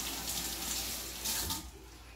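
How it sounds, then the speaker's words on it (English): Kale leaves being rinsed under a running faucet into a sink, a steady close splash of tap water that eases off near the end. "First, of course, wash it."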